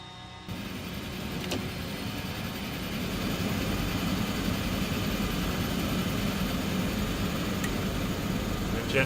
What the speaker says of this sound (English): Starting the right engine.